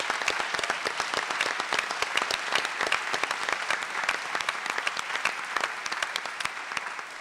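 A room of people at a town meeting breaks into applause, fairly quiet and distant, with distinct individual claps forming an even, continuous patter that carries on without talk.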